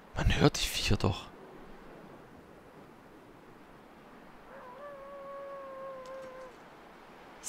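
A wolf howls in The Long Dark, a long, steady, tonal wail in the middle of the clip, faint and distant over a low wind-like hiss, after a short burst of nearby activity at the start.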